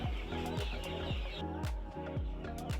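Chickens of chopper and broiler breeds, raised at a prison farm on Nusakambangan, cluck in a rhythmic stream of short calls, near and steady, with no talking.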